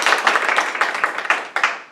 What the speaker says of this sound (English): Let's give Dr. Ross a round of applause.